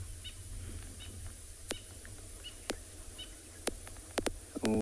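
Egyptian geese at a sunset safari in the wild, giving a few sharp, brief honks and calls spaced irregularly over steady outdoor background noise, with a quick cluster near the end.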